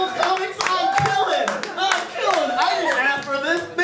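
Audience applause at a stand-up comedy show, scattered clapping running beneath a performer's loud, excited talking throughout.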